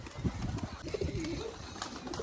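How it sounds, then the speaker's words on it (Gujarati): Soft, low cooing of pigeons rolls in gently, with a faint chirp or two over a quiet outdoor background. "બધા કબૂતરા પણ આવી ગયા છે"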